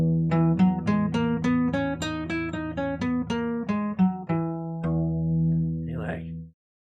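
A guitar plays a run of single picked notes in the Lydian mode, steady and evenly spaced, ending on a held note that fades to silence, heard alone without talk.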